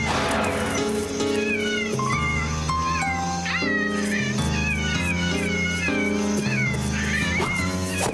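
Cartoon cats caterwaul at night under a full moon, several loud, wavering, drawn-out meows and yowls overlapping continuously over a background musical score.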